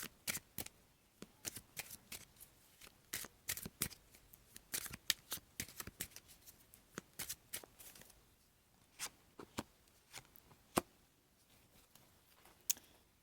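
Someone shuffles a tarot deck up close, producing quiet irregular snaps and flicks of cards in quick clusters with short pauses between, with no talking.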